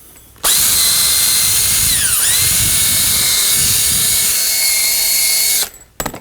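A power drill bores into a part of an Atari Quantum arcade cabinet during restoration, a loud steady high whine running nearly six seconds with a brief dip in pitch midway, close and alone.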